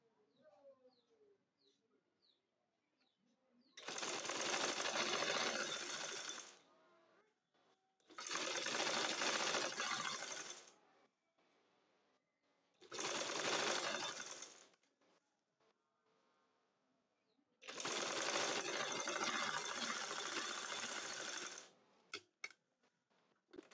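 A sewing machine joins a neckline to dress fabric in four separate bursts of rapid stitching, each a few seconds long, with quiet pauses between them.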